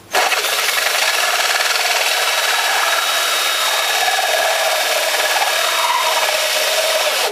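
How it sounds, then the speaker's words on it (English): A loud, harsh grinding whine holds steady for several seconds as a tool bites into material, with no talking. "You want to kind of pivot the drill to cut in each area."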